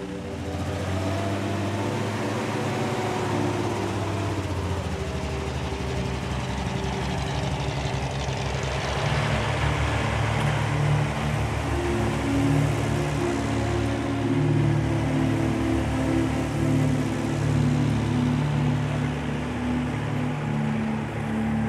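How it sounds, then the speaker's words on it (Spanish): A 4x4 tows a tractor, which in turn tows a truck, on a rough track in Paraguay's Chaco; engines drone and rumble continuously at close range, with a steady low hum that swells slightly midway. "The 4x4 pulls the tractor, which pulls the truck."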